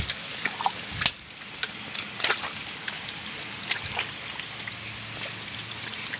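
Rust-tinged water trickling and dribbling out of rock at a rocky outdoor spot, a steady light flow broken by small splashy drips and a few sharper splashes, close and fairly quiet, with no talking.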